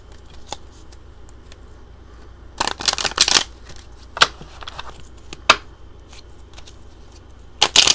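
Tarot cards being shuffled in bursts of crisp riffling and slapping, several short clusters separated by quieter pauses, close and clear with no talk.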